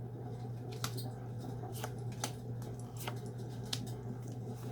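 Tarot cards are laid out one by one on a table, giving soft, faint snaps and slides at a loose, irregular pace over a low steady hum.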